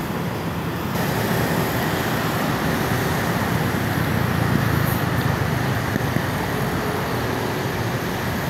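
An MRT train rolls past in the Ortigas Center in Metro Manila on a morning street, a steady, broad mechanical rumble with traffic noise that holds fairly loud and close for the whole stretch, with no voices.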